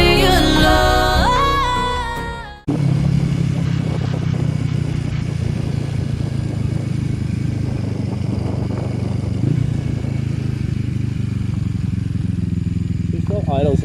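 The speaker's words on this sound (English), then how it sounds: "She still idles a bit high, but other than that, she's all well." A Yamaha XS400 motorcycle idles a bit high, its steady low engine rumble running close and loud for most of the span after a brief burst of music at the start.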